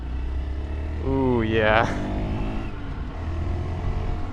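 A Honda mini motorcycle revs up while being ridden, its low, grunty engine note climbing in pitch for a couple of seconds before settling back to a steady idle hum, with a brief spoken exclamation over it.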